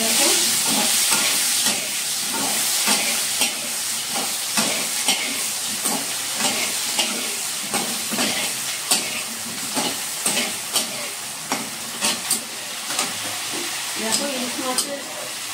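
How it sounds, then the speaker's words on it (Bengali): Potatoes and spices frying in a hot pan for a hilsa fish curry, a steady close sizzle with repeated stirring scrapes and clicks throughout. "এবার আলুর সাথে মশলাটা ভাজা ভাজা হোক।"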